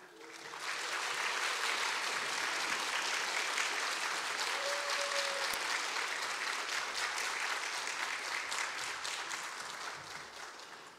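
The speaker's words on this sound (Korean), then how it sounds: "우리 목사님 나오실 때 박수로 환영해 주시면 감사하겠습니다." A church congregation gives sustained, even applause during an evening worship service to welcome a pastor invited for a mission lecture. The applause is loud and full, swells in quickly, holds steady for about ten seconds and tapers slightly at the end.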